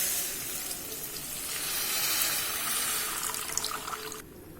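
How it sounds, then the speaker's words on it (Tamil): Water runs from a tap into a cooking pot for tomato rasam, a steady, fairly loud splashing stream that cuts off abruptly near the end. "தண்ணி விட்டுருக்குறேன்."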